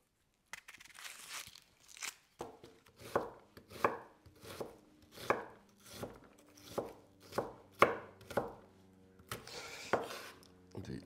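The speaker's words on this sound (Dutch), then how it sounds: "Dan gaan we 3 flinke uien schillen natuurlijk en dan snipperen." A knife chops three large peeled onions on a board with a steady, close rhythm of about a dozen crisp, crunchy strokes and no talking.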